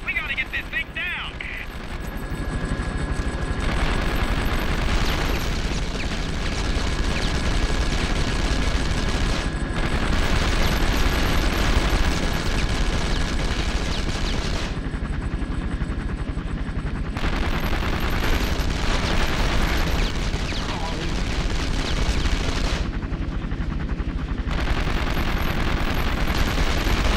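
Sustained gunfire from the PS2 video game 24: The Game, heavy bursts and volleys running almost continuously at a loud, steady level with a few brief gaps, dense and close, with a voice talking over it.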